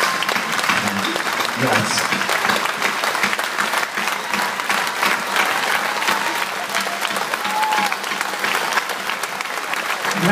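A festival audience applauds steadily throughout, a dense crowd clapping with a brief spoken thanks heard over it.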